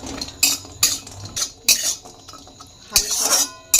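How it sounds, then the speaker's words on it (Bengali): A spoon stirs cashews in a hot kadai, giving a string of sharp metallic scrapes and clinks in irregular bursts, close and fairly loud, with no talking. "এবার কাজুটাকে হালকা একটু নেড়ে নেব"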